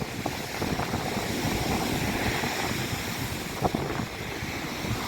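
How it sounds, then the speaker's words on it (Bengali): Sea waves roar steadily onto the shore at Kalpakkam, Tamil Nadu, in a loud, continuous wash with wind buffeting the microphone and no voices. "সমুদ্রের গর্জন দেখেছে"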